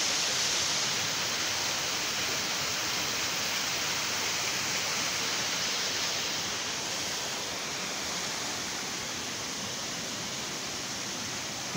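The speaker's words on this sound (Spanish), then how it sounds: "Vean cómo se ve la pequeña cascadita." A small waterfall in an ecological reserve in Mexico City with clear water, a constant broadband rush of falling and splashing water, close and steady throughout with no voices.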